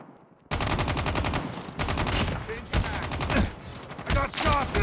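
Fast automatic gunfire in Call of Duty Mobile, loud rattling bursts with short gaps between them, and game voice callouts mixed in.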